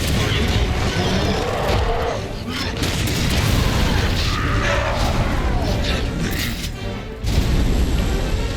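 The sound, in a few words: grenade launcher explosions in Resident Evil 6 video game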